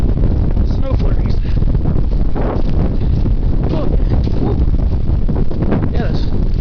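Strong mountain wind buffets the microphone on a high trail in Cleveland National Forest amid cloud and snow flurries, a loud, continuous gusty rumble that swells and dips.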